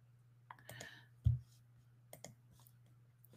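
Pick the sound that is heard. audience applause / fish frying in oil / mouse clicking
mouse clicking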